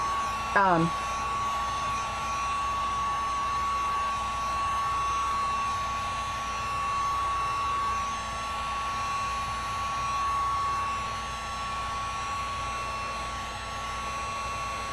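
A handheld heat tool blows a steady whooshing roar over a chalk paint collage, holding a constant even tone for the whole stretch after a brief click at the start.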